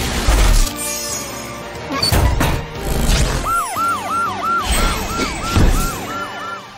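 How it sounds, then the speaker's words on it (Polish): Cartoon ambulance siren from a Polish children's animated rescue-vehicle show, a loud wailing up-down electronic siren cycling steadily over a busy music score with crashes and effects. "Super ambulans jest tutaj, aby uleczyć rannych."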